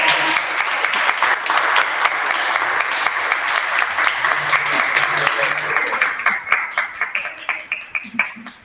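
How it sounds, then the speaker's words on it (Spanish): An audience at a book launch for a guide to the reptiles of Buenos Aires province applauds a speaker. The loud, dense clapping holds steady, then thins into scattered individual claps, with a few voices underneath. "Gracias, te aplaudimos"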